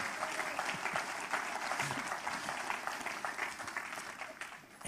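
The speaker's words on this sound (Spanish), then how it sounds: "¡Un aplauso para el Señor!" A church congregation applauds at a Spanish-language Christian service, a steady, dense wash of many hands clapping at moderate distance that holds evenly throughout.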